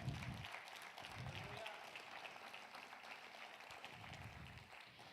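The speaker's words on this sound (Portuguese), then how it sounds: "Aplauda ao Senhor." Applause from a crowd, a steady wash of clapping that carries on throughout, with a few faint voices mixed in.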